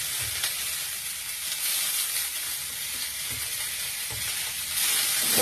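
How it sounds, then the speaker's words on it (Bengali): Chopped coriander leaves are stirred into a frying spice masala for a begun bhaja dish, producing a steady close sizzle and hiss with faint scraping stirs and a slight rise in loudness at the end. "ধনেপাতাটা কুচিগুলো দিয়ে একটু ভালোভাবে নেড়ে চেড়ে নিতে হবে"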